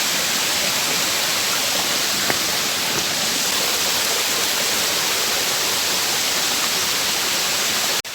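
A small stream of water runs over rock in deep forest, a constant close rushing wash with no change in level and no voices.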